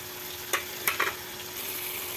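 Meat for adobo fries in a pan, a soft steady sizzle broken by a few brief scraping clacks as it is stirred, close and without voices.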